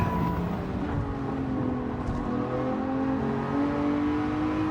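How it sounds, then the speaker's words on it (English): A Lamborghini Diablo's engine drones hard on a track in Gran Turismo, a loud sustained roar whose pitch climbs steadily through the gears with no break and no voices. "This old Diablo just absolutely rips up this track."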